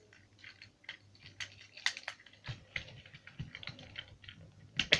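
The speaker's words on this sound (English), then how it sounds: "first fold down Mega Octane's legs and flip up the backs" Plastic Transformers toy Mega Octane handled as its legs are folded down and backs flipped up, giving a run of small, close, sharp plastic clicks and taps at irregular intervals, with no voices.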